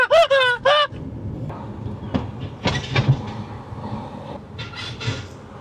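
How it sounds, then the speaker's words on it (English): Suspension of a high-mileage car with 243,000 miles squeaks over bumps: a few sharp, high squeals at the start, then scattered clicks and creaks over a low road rumble inside the cabin. "No, but there's an actual squeak."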